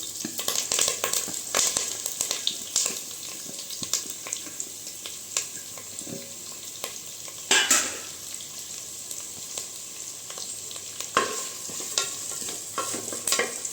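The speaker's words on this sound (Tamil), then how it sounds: "இது நல்லா வதக்கி விட்டுக்கலாம் இப்போ பார்த்திங்கன்னா வெங்காயம் வதங்கி வரட்டும்" Onions, green chillies, curry leaves and stone flower are sautéed in a pan, producing a soft, steady sizzle with repeated scraping strokes of a ladle and a couple of louder stirs.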